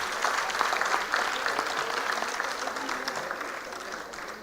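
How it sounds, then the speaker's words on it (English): A convocation audience claps steadily, a dense, continuous applause filling the hall and tapering slightly toward the end. "Let's all clap for our friends."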